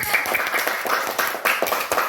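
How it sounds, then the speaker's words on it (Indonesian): An elementary school classroom claps for group 1 after its presentation, a close, lively patter of small hands with uneven bursts and sharp individual claps. "kasih tepuk tangan untuk kelompok 1"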